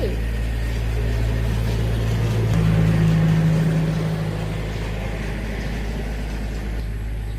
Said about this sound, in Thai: รถไถมาค่ะ